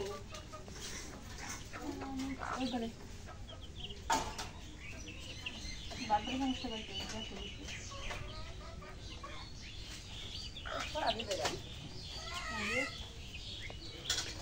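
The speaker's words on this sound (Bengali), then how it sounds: "দাও মুরগিগুলো খাবার দাও।" Chickens cluck and chirp softly at feeding time in a rural yard, scattered calls throughout, with other birds and people talking in the background.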